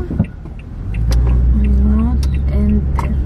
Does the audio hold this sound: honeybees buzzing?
no